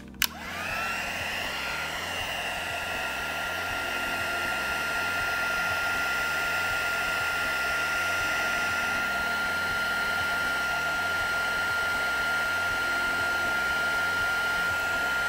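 A heat tool melting embossing powder on freshly inked stamps. It blows a steady, loud whoosh that carries on without a break, with a high whine running through it, close up and with no talk.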